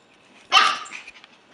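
A single sharp puppy bark or yip from registered pedigree puppies, sudden and fairly close, trailing into a softer whine and faint sounds before quiet returns.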